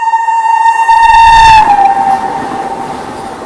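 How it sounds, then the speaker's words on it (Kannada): A Chennai–Mysuru Vande Bharat Express races past, overtaking the Murdeshwar Express at Channapatna, its loud horn dropping sharply in pitch as it passes close by, followed by fading rumble of the rails. "ಇಲ್ಲೇ MGR ಚೆನ್ನೈ ಸೆಂಟ್ರಲಿಂದ ಮೈಸೂರಿಗೆ ಹೋಗುವಂಥ ವಂದೇ ಭಾರತ್ ಎಕ್ಸ್ಪ್ರೆಸ್ ಓವರ್ಟೇಕ್ ಮಾಡತೈತಿ ಮುರುಡೇಶ್ವರ ಎಕ್ಸ್ಪ್ರೆಸ್ನ ಚನ್ನಪಟ್ಟಣ ಒಳಗೆ."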